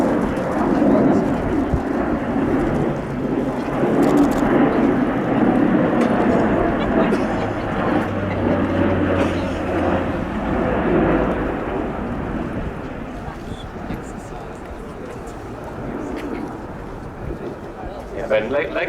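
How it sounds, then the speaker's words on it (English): An Airbus A400M Atlas military transport aircraft passes at low level during a tactical demonstration, a loud, broad rumbling roar that fades gradually, with a voice narrating over it. "the aircraft returning to low level"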